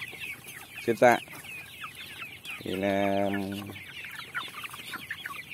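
Free-range chickens on a farm cluck and squawk close by, with one sustained call in the middle, over a low background while someone speaks briefly.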